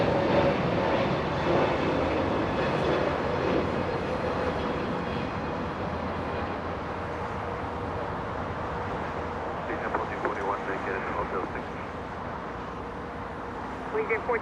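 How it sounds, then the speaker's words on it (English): An Air France Boeing 777 taking off from runway 24 left at Los Angeles International Airport, a broad steady roar that holds throughout and fades slightly toward the end, with talk heard over it. "talking about the French 777 lifting off using 25 right, 24 right for the departure"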